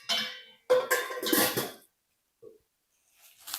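Metal cooking pots, including a biryani pot with handles, clang and clatter in a few sharp, close bursts of ringing metal separated by short silences.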